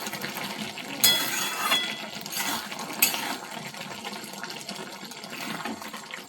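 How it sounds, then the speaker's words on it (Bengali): A pot of mango and cherry tomato chutney is stirred after the lid comes off, with soft wet scraping and bubbling and two sharper knocks against the pot, close and moderately quiet. "নেড়ে দেবো একবার।"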